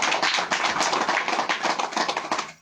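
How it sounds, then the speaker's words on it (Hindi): A church audience claps hands together in a quick, rhythmic burst, dense and fairly close, sharp claps running steadily before tapering off at the end. "ताली बजा सकते हैं?"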